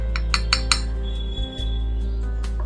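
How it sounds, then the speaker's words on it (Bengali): A spoon of salt added to washed taro and potatoes in a bowl, giving three quick light metal clinks near the start and a soft tap afterward, over a steady low hum. "1 চামচ নুন দিয়ে দিলাম।"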